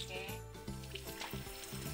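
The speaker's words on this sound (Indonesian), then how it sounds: "karena saya goreng pakai api kecil ya guys ya" A fish fillet frying in oil over low heat gives a steady, soft sizzle and crackle with faint stirring, close by and continuous, with no talking.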